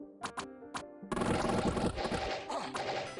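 A few sharp, separate clacks come first, then a dense, rattling flurry of impacts as archers and crossbowmen loose a volley in Dominions 5, loud and busy for about two seconds.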